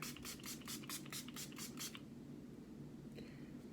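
Hard Candy Longwear Sheer Envy setting spray being misted during a makeup routine, a rapid series of about eight short hissing pumps close to the mic, followed by quiet room noise.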